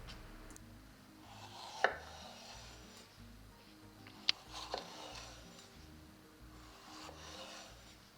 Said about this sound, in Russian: И нарезаю перчик.